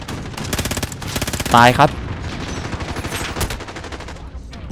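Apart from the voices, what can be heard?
gunfire from Call of Duty Modern Warfare video game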